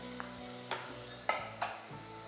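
Cubed carrot and mixed vegetables sauté in a pan over high flame for a vegetable curry, a steady close sizzle broken by several sharp stir-and-scrape clatters of the spoon.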